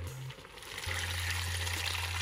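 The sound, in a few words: pouring liquid residue while cooking Ghanaian soup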